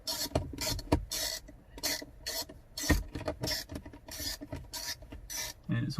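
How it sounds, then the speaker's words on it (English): Screws being driven into the plastic dash of a Jeep Gladiator to fit a phone mount, heard as close, uneven scraping and grinding bursts with small clicks, repeating in short spurts with brief pauses. "having a little trouble getting the screws in the hole."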